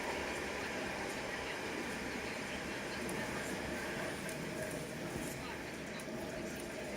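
A South Western Railway Class 707 electric train runs along the line, a steady broadband rumble and hiss that holds constant throughout with no clear breaks.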